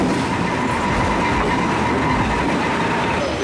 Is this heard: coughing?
no